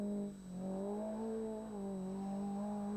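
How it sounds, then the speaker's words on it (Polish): A rally car engine drones steadily, its pitch climbing and dropping in quick steps as gears change rapidly through a short gearbox, with no voices. "Słychać jaka krótka skrzynia, jak szybko zmieniał biegi"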